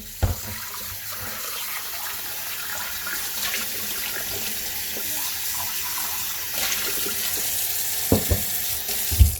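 Tap water runs steadily as a soapstone curd pot is rinsed after scrubbing with salt, a continuous close hiss of flowing water broken near the end by a few knocks of the pot.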